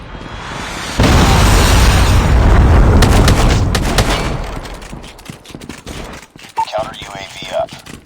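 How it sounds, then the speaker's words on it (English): A Predator missile strike in Call of Duty lands with a loud, sustained blast and crackling debris roar that slowly fades, followed by scattered gunfire pops and a brief radio-style voice near the end. "Friendly Predator missile inbound."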